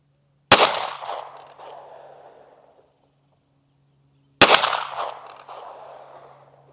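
Two loud, sharp pistol shots fired at a target on an outdoor range, spaced about four seconds apart, each leaving a long, fading echo in otherwise quiet surroundings.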